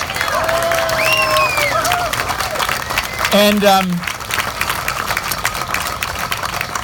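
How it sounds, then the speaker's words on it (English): A crowd at an outdoor solidarity rally claps and cheers, a broad continuous roar of applause, while voices and whoops rise over it and an engine hums in the background. "John Lewis deserves a round of applause."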